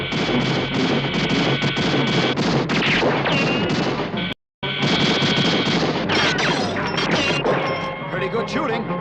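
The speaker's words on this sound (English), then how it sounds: "They're shooting at us." Rapid gunfire crashes and booms from pursuing aircraft in a Jonny Quest cartoon chase, loud and continuous with a brief silent gap, mixed with engine roar and short voices.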